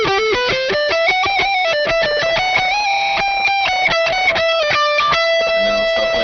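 An electric guitar is picked without muting, so the other strings ring on as a steady wash of overlapping tones beneath quick, even picked notes.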